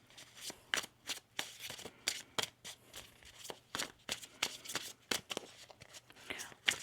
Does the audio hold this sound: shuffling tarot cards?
yes